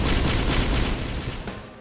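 A giant cannon fires in the video game Risk of Rain, a loud dense booming blast with a crackling rumble that fills the moment and then fades slightly toward the end.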